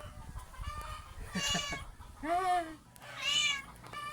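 Several cats meow in turn, drawn-out plaintive cries at moderate distance, with faint clucking and background noise between them.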